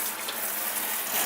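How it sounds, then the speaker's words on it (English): Very hot water runs from a kitchen faucet in a steady, close, hissing splash with no pauses. "this is a good time to turn on some really hot water"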